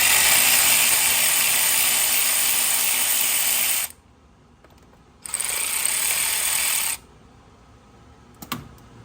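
Ratchet working on an AC compressor bolt on an LS engine: two bursts of rapid, loud mechanical clicking, nearby, separated by a quiet gap, ending with a few faint clanks.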